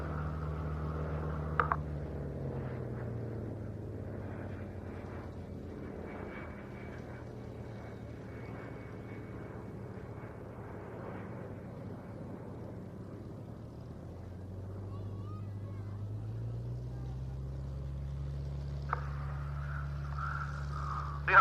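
A Hawker Fury and a De Havilland Vampire fly high overhead in formation at an airshow, a distant droning engine rumble that swells and fades across the sky.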